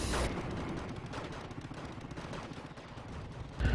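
Tanks trading cannon and machine-gun fire with an M60 in the war strategy game Wargame Red Dragon, a dense continuous barrage of shots and booms with heavy impacts at the start and end.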